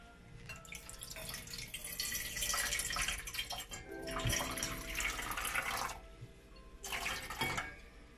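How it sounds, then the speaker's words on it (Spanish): Water poured into a metal container for a salt-water demonstration, with splashing, running pours in several bursts separated by short pauses, near and fairly loud. "Como siguiente paso, vertimos el agua en el recipiente"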